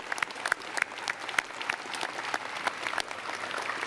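A convocation audience of new students applauds themselves and the orientation team. The clapping is continuous and moderately loud, with distinct individual claps popping out of the dense patter throughout.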